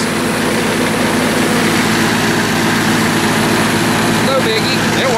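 An MEP-004 single-phase military diesel generator runs loud and steady with a constant rumbling drone close by, and a voice is briefly audible over it near the end.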